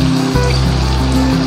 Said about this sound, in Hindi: इसमें मैंने डालना है 1/2 कप के करीब पानी